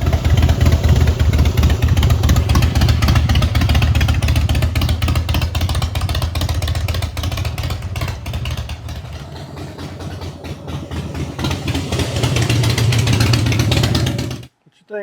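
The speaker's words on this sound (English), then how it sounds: "So we're gonna go out and test ride this thing and see if there's a difference." A 2011 Harley-Davidson Softail motorcycle engine runs loud and close throughout a test ride, a steady low rumble that eases and builds again before cutting off abruptly near the end.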